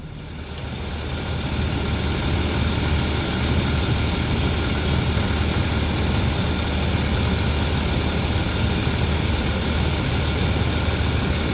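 A Land Rover Discovery 3 engine idles steadily with a deep low rumble while its ZF 6HP26 six-speed automatic gearbox is cycled through the gears, close and continuous with no talk.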